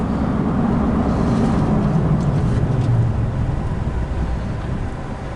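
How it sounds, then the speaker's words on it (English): Chevy 1500 pickup truck slowing to a stop from about 45 mph while bedding in new brake pads, a steady loud road and engine rumble easing off toward the end, with no talk. "I'm about to have to come to a stop, so I'm gonna go ahead and hit the brakes"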